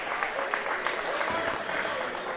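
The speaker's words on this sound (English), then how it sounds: "nice round of applause" A crowd at a high school boys' basketball game in a gym gives a short round of applause, a moderate patter under an announcer's voice.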